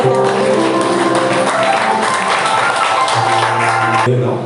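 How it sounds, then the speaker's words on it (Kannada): A church congregation claps loudly for Jesus during a prayer and thanksgiving service: dense, steady applause fills the room for about four seconds, over music, and then fades out abruptly. "ಎಲ್ಲರೂ ಸಹ ಗಟ್ಟಿಯಾಗಿ ಯೇಸುವಿಗೆ ಚಪ್ಪಾಳೆ"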